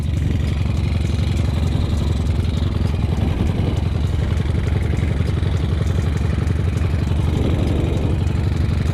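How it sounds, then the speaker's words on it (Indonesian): Honda Tiger motorcycle engine with a rattling carburetor and a leaking exhaust, idling steadily up close with a dense, clattery mechanical rumble throughout. "ini yang bunyi kemelatak itu skepnya geng. Skep sama knalpot bocor ya."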